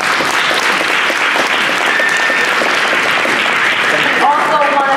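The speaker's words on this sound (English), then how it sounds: "Let's give them a round of applause" Audience applause in a gymnasium at a seniors' African history celebration, loud continuous clapping from a crowd that fills the space for five seconds, with scattered whoops and voices mixed in.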